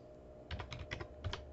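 Quick clicks of an arrow key on a computer keyboard, about half a dozen close taps in an uneven rhythm against a quiet background.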